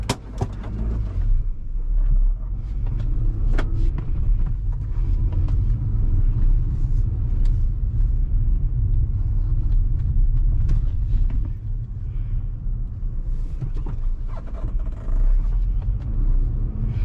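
Steady low engine rumble and road noise inside a moving Maruti Victoris LXi CNG car, a quiet continuous hum with a few faint clicks and knocks throughout.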